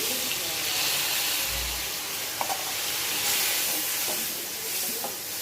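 Lemon juice poured into a pan of sizzling onion, ginger and cashew with turmeric, for lemon rice: a steady soft hiss and sizzle throughout, with a few faint clicks and stirring sounds.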